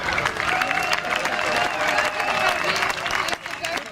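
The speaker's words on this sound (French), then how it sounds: "Une grosse main d'applaudissements." Audience applause at a welcoming ceremony for Défi Champlain canoers in Gatineau, steady clapping and crowd noise filling the whole stretch, with some voices mixed in, dipping slightly near the end.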